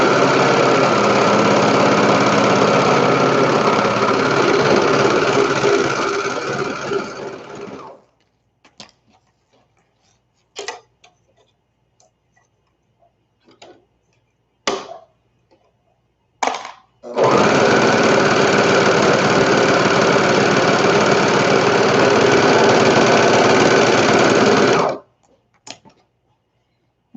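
A serger overlocking fabric for baby bloomers runs in two long, loud, steady bursts of rapid mechanical stitching, separated by a quiet gap with scattered clicks and handling noises.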